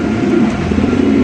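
A male pigeon coos in a steady, low murmuring rumble. It belongs to a pigeon collection that includes black Mundi pigeons, and it sounds close and continuous with no pauses, under a faint background hum.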